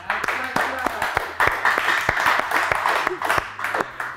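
Studio audience clapping on an Afghan quiz show, a sustained patter of applause with sharp individual claps running throughout.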